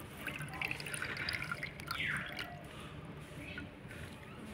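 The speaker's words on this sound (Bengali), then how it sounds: "এইভাবে হাত দিয়ে চিপে ছাঁকুনির মধ্যে দেব আর ছেঁকে নেব" Juice squeezed by hand through a strainer into a bowl while making homemade alta, with soft wet squishing and trickling drips that come close and faint in a quiet room.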